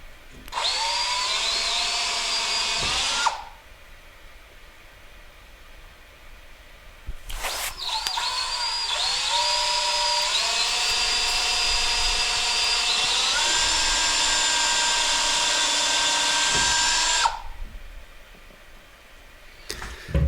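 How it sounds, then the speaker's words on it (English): A power drill whines loudly into hardwood while holes are drilled and screws driven during a radiant-floor pump installation, with a short burst, a pause, then a long steady run that winds down. "I drill these holes, put the screws in"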